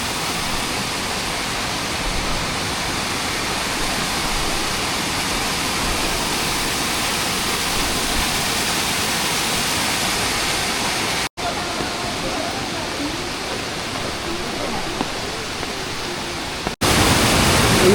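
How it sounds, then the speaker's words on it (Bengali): A waterfall pours down from above at Panchalingeswar, giving a steady, dense rush of falling water that stays loud and unbroken throughout, with a couple of brief cuts. "এখন ঝর্ণাটা আসছে উপর দিয়ে।"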